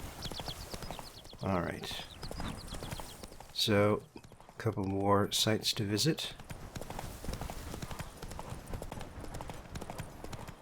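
Horse hooves clip-clop at a walking pace in The Witcher 3, a steady rhythmic patter running beneath a man's casual speech.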